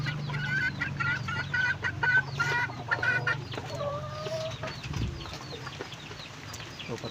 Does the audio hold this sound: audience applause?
no